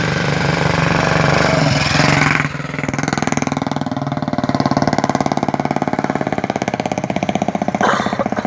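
A motorcycle engine runs steadily and loudly up close, with a rhythmic throbbing idle that shifts slightly in pitch partway through.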